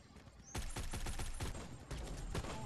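Rapid bursts of automatic fire from an Odin assault rifle in a video game crackle close and sharp, two long strings of shots separated by a brief pause.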